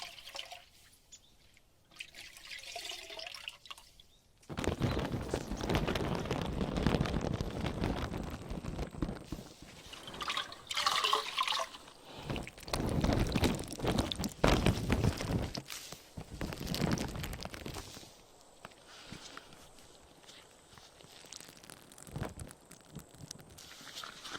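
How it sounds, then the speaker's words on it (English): A sponge being rinsed in water during an ear cleaning role play, close and intimate with squelching, dripping and trickling that comes in bursts of varying loudness over several seconds. "starting on this side with the sponge rinse"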